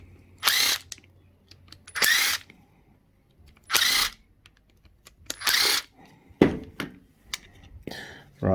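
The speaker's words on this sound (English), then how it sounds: "Let's get rid of the screws." A power drill or driver backs screws out of a Warn contactor in a workshop, running in several short bursts of a second or so each with quiet gaps between them, close and fairly loud, with no talk.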